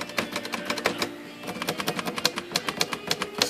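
Keys of a Royal Quiet DeLuxe manual typewriter, recently repaired after a jammed spacebar and typebar, clack in a quick irregular run of sharp strikes with spacebar thumps, close and loud with no talk.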